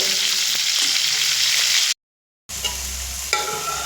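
Continuous crackling sizzle of chicken frying in hot oil in a pan, briefly cut off by a short silence before the frying resumes.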